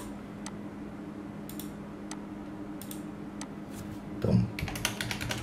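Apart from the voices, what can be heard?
typing on a computer keyboard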